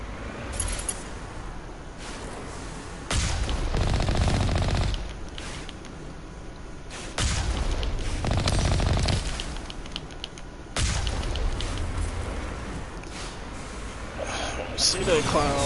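Gunfire and sniper rifle shots in the video game Mass Effect Legendary on Insanity difficulty, several separate loud bursts of shooting spaced out between quieter stretches of game ambience.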